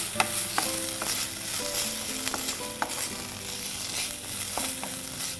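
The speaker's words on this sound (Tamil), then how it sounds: "இதை நல்லா கொஞ்சம் வதக்கிக்கோங்க." Finely chopped tomato sautéing in a pan, a continuous low sizzle with repeated clinks and scrapes of a spatula stirring at a steady pace, close by, no voices.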